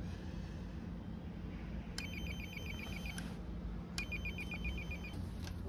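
Electronic telephone ring tones repeat twice, about two seconds apart, over a steady background hum while a phone call is placed at a hospital entrance.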